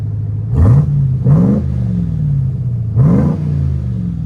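Ram TRX truck engine with a Vibrant exhaust revving in three sharp blips over a deep idle, each rev rising quickly then dropping back, loud and close.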